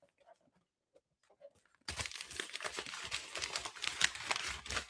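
Paper wrapping around a whisky gift crumpled and torn open up close, busy crackling and ripping that bursts in loudly after a couple of seconds of near silence with faint small rustles.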